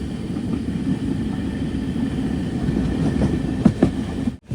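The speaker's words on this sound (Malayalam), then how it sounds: "ട്രെയിൻ ഇതാ ഗോകർണ റോഡ് സ്റ്റേഷനിലേക്ക് എത്തുകയാണ്." The Panchaganga Express rolls into Gokarna Road station with a steady low rumble of rail cars and faint wheel clacks, heard from on board at a moderate level.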